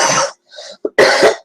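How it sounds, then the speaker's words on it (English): A person coughs several times in quick, harsh bursts, close and loud, with brief pauses between the rough throaty hacks. "A cough's coming."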